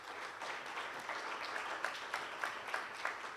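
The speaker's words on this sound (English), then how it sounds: "let's give him a round of applause." Conference audience applauding a speaker called forward at a session on African media. Faint, distant clapping from a moderate crowd runs steadily throughout, with a few sharper claps standing out.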